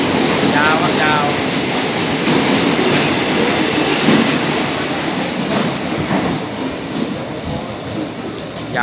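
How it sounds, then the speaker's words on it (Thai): Long freight train of oil tank wagons rolling through a Thai railway station at Saraburi, a loud continuous rumble with steady clickety-clack of wheels over rail joints and faint wheel squeal, close by throughout. "รถน้ำมันครับผมแน่นอนไวไฟ"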